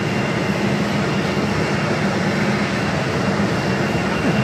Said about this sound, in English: we have an Embraer Legacy 500, small little private jet to be taking off here